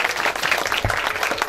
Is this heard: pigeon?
no